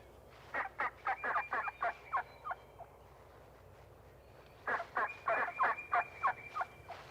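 Wild turkeys in a flock on open Ozark farmland meadow in Missouri gobble in two loud bursts of rapid, rattling calls, each a quick run of notes, separated by a short quiet gap.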